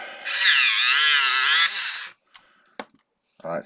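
An electric pencil sharpener grinds a pencil at an art desk in a loud, steady whirring burst of about two seconds, then cuts off into a few small clicks and handling noises.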